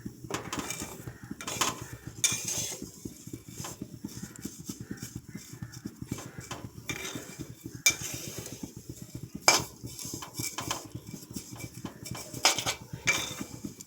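Semai vermicelli fries in a pan and is stirred steadily, giving a continuous close scraping and rustling with frequent utensil clinks against the pan and a faint sizzle underneath, with no talking.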